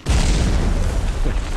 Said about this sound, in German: Explodiert eine Zuckerstange auch, lass mal schauen.